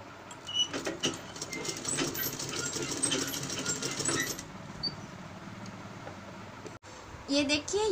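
A sewing machine runs in a few quick bursts of stitching, stitching a baby's Peter Pan collar along its curved edge, moderately close, then pauses before a short burst of faint, unclear sound at the end.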